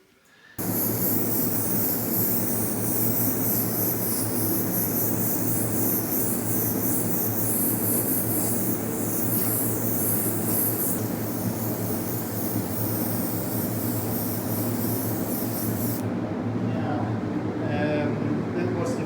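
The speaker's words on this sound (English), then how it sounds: "masked off the frame, and my airbrush is ready, and black paint is in." An airbrush sprays black paint onto a masked-off Pinarello F10 bike frame, a loud steady hiss that starts abruptly and runs continuously, then dips near the end.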